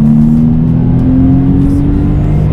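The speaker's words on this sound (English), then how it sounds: "Hear the car howl there" A Porsche 993 engine howls at high revs past 5,000 rpm on an open road, a loud, sustained droning tone climbing steadily in pitch from inside the car.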